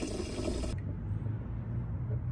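Water runs into the removable tank of a car upholstery cleaner, a close, steady splashing fill with a brighter hiss in the first moment before settling into a lower, continuous gurgle.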